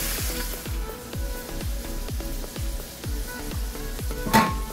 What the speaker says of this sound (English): Now I'm going to put a top on these and let them brown.